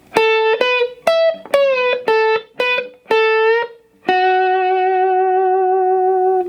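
Electric guitar plays a lick slowly, picked notes spaced out with small gaps, ending on one long sustained ringing note.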